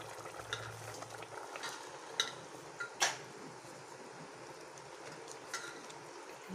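Peas are stirred into a simmering masala in a pan, giving a faint, low sizzle with a few soft scrapes and clicks from the spoon, quiet and close.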